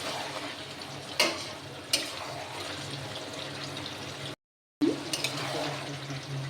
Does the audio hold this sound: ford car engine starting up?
no